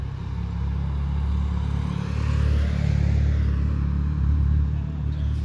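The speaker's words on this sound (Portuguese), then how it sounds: "olha essa moto diferenciada. Da Royal." A Royal Enfield motorcycle rides along a city avenue among traffic, its engine a steady low rumble that swells and fades over about five seconds, mixed with general road noise.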